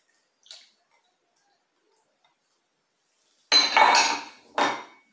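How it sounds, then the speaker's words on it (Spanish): Cream pours into a Thermomix bowl while making beef stroganoff: a faint tap early, then a near, loud liquid splash lasting about a second, followed by a shorter second pour, with no speech. "Añadimos la nata."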